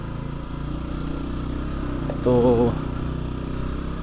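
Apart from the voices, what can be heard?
motorcycle engine straining while climbing a steep hill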